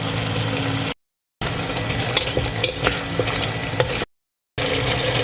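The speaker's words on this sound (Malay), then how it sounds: "Masuk air." Water added to chicken curry cooking in a pan with curry leaves, salt, sugar and soy sauce, giving a steady close sizzle and bubbling with faint stirring scrapes, broken by two short silent gaps.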